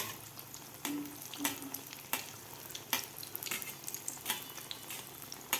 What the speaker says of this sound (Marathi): दोन्ही साईडकडून व्यवस्थित हे वडे तळून घ्यायचे आहेत